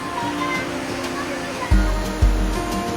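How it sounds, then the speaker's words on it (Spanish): A waterfall roars as a steady, dense rush of water, with a couple of thumps or bumps near the end. "cascada vista"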